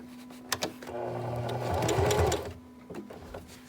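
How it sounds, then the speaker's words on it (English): A sewing machine stitches a fabric mask attachment around curves in short runs, its motor whirring in bursts with brief pauses and clicks between them as the work is pivoted. "when sewing around curves, you just do a lot more lifting of your foot, pivoting, and putting it back down, doing a few more stitches"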